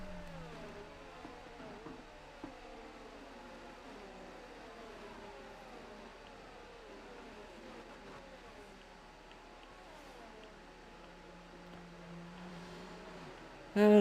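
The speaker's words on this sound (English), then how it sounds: "As the cars make their way around turn 4 under safety car." Racing cars in the game F1 23 circle the Austria track at reduced pace behind the safety car. The engines make a steady, low, droning whine with gently shifting pitch that continues at moderate level throughout.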